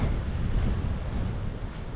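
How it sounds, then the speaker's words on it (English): Strong wind buffets a GoPro microphone outdoors during a tornado watch while mulberry bushes are being planted, a steady loud low roar of gusts filling the whole stretch with no voices. "I don't know if y'all can hear this wind, but it is kicking."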